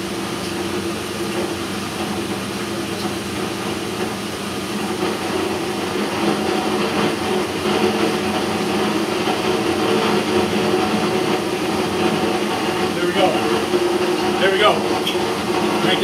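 A paper pulp beater machine runs steadily, beating fabric into pulp with a constant, loud mechanical drone and hum; brief faint clicks surface near the end, with no clear talk.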